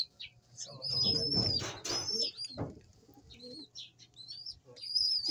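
Pigeons kept by a fancier give soft coos and chirps with brief wing flutters, moderately close, against a low steady background hum, with a few scattered louder bursts of movement.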